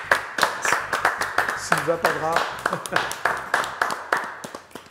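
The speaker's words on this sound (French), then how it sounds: "je te propose de l'applaudir quand même" Audience clapping for a singer on a French radio show, a small crowd's uneven claps running under a voice that speaks over them, moderately close, with a sung or drawn-out vocal passage in the middle.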